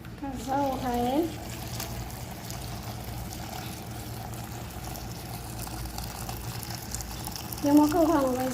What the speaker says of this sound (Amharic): የሞቀ ውሃ ነው በዚህ ጋር የምናደርገው።